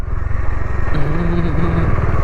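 Motorcycle on a group ride to Kodaikanal in the hills, a steady loud engine drone with rhythmic throb and wind rush, close and continuous, with a brief horn-like tone partway through.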